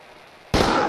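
A single sharp gunshot from the video game Project Eden bursts in loudly after a quiet moment, with a brief trailing decay.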